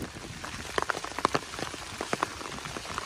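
Rain falls on an umbrella during a walk, a soft, steady patter with close, crisp drop taps scattered irregularly across the canopy, quiet and without voices.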